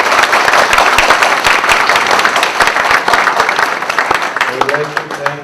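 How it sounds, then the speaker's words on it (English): A room full of students claps loudly with sharp, closely packed claps that thin out and soften toward the end. "All the students, please, a big round of applause"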